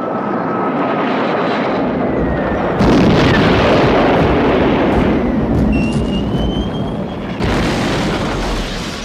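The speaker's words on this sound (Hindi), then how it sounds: "5:45 पर पठानकोट एयरबेस से भारत के वैम्पायर विमानों ने छम पर बमबारी करने के लिए टेक ऑफ किया।" Indian Vampire jet fighters take off from Pathankot airbase in 1965 to bomb Chhamb, a loud continuous roaring rush of jet engines with swelling intensity and whining tones, heard alone.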